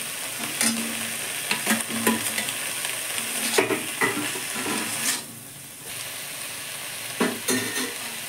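Potatoes go into a pan with tender bottle gourd greens for a vegetarian dal, sizzling while a spatula stirs with irregular scrapes and knocks, close and fairly loud, dipping briefly quieter midway, no voices.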